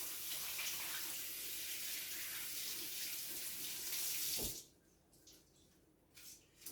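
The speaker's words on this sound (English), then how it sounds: "Quickly wash my hands." Kitchen tap running as hands are washed after handling raw pork roast, a loud steady gush of water for about four and a half seconds that stops abruptly, followed by a few faint drips and small handling sounds.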